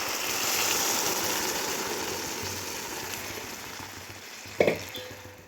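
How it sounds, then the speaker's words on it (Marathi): Tamarind water poured into a pan of sautéed spices with chilli powder, salt and turmeric, giving a steady frying sizzle that slowly fades, then a short clatter near the end. "सगळं परतून घेतल्यानंतर यामध्ये मी चिंचेचं पाणी टाकत आहे"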